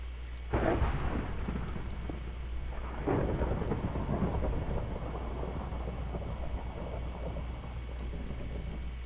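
Thunder rumbles through steady rain in a Minecraft world, with two loud cracks that roll out and fade while the downpour keeps hissing underneath.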